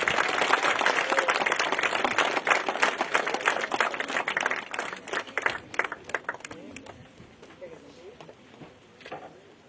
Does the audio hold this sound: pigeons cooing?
no